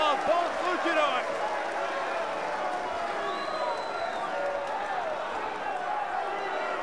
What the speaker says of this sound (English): The fans applauding the athletic abilities of both luchadors